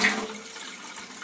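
Water streaming steadily from a Kangen K8 water ionizer spout into a glass, a continuous close bubbly flow with no talking.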